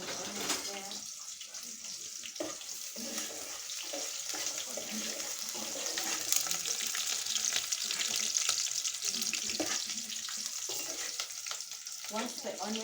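Onions fry in a pan while a Kenyan staple dish is cooked, producing a continuous soft sizzle with occasional stirring scrapes and faint watery clatter in the background.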